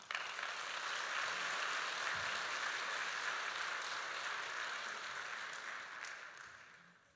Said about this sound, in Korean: 나오실 때 박수로 한번 환영하겠습니다.